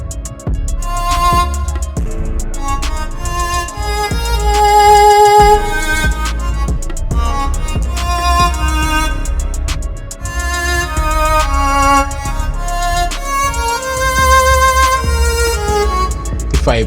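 A Sakura plugin melody layered with violin over a steady low bass bed, bright plucked and bowed notes repeating in a looping beat phrase, loud and continuous with no voices.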